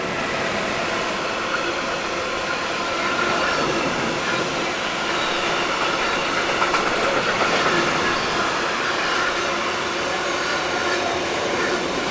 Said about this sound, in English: 482037 heads south with a trainload of pressure tanks